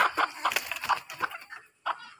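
A black hen clucks in a run of short, fairly close calls, with a brief pause before a final cluck.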